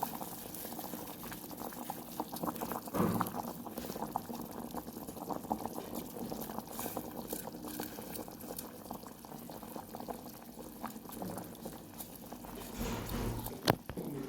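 Indomie instant noodles going into a pot of boiling water, a steady close bubbling roil with liquid churning throughout and a few louder splashy bursts near the end, no talking.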